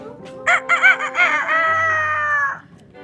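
A person imitates a rooster crowing: a few choppy, clucking bursts, then a long, sustained crow-like call that fades out, close and clear.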